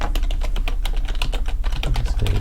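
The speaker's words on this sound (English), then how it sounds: "we type EOF on a new line to finish" Rapid, loud clicking keystrokes on a computer keyboard, a dense irregular patter of close key presses with no speech.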